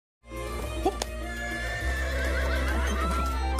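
A horse whinnies over steady hoof clip-clops and the constant low rumble of a horse-drawn carriage rolling along; no one speaks.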